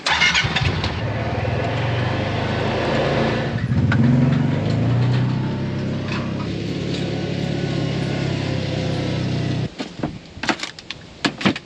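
A side-by-side utility vehicle engine cranks and catches, then runs at a steady close rumble for several seconds before cutting off, leaving a few scattered knocks and clunks.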